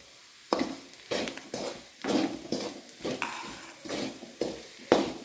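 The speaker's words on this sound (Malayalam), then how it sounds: "ഗരം മസാലപ്പൊടി ഒന്ന് ഇളക്കി അതിൽ പിടിച്ച് വരട്ടാണ്" Onions sautéing with garam masala powder in a pan, stirred in a steady rhythm of scraping strokes about every half second over a soft sizzle, close and moderately loud, with no voices.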